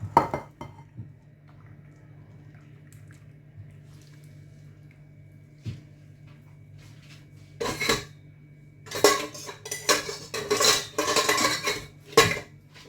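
A spoon stirs strawberries with syrup in a bowl, opening with a few sparse clinks, then turning to clustered scraping and clattering bursts against the bowl. The stirring grows busier and louder toward the end, with no one talking.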